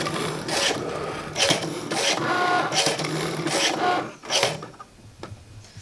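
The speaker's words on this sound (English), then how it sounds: "I could sit and watch the rotary blade all day" A Cricut Maker's rotary blade cuts fabric on a mat, producing a repeating mechanical whir with regular rhythmic passes and carriage clicks, close and fairly loud, then trailing off at the end.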